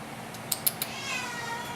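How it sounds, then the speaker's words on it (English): A neighbourhood cat gives three short, close meows in quick succession, followed by a softer, drawn-out whine, with no talking. "oh, neighbor kitty's here."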